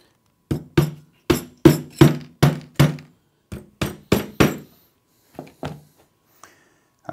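A hammer taps wooden dowels into a panel, about a dozen crisp knocks in an uneven rhythm, then a few softer, more spaced taps near the end.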